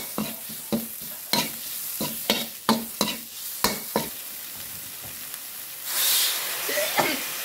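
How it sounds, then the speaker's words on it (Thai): Rhythmic scraping and clanking of a spatula stirring chilies in a hot pan, roughly a dozen strokes, followed by a loud burst of sizzling. "เพื่อจะคั่วพริกให้สุกก่อนนะครับ"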